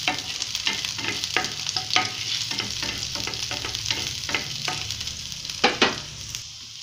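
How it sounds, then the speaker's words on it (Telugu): Small slices of ginger, with garlic, frying in a pan, giving a steady close sizzle with repeated scraping stirs throughout and no talking. "జింజర్ చిన్న చిన్న స్లైసెస్గా కట్ చేసుకున్నా చెప్పా కదా, అవి వేసాను. అది బాగా వేగుకోవాలి."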